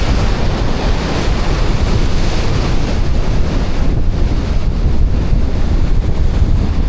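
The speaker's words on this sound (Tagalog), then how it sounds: "Grabe yung mga alon" Steady roar of ocean waves mixed with heavy wind buffeting the microphone, continuous and loud throughout with no voices.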